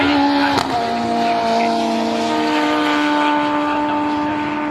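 Modified Mini race cars circuit racing at Brands Hatch, a sustained high engine drone with steady whining tones and a sharp knock early on, heard from trackside without talk.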